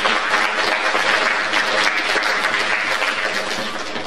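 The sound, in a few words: audience applause at a school entrance ceremony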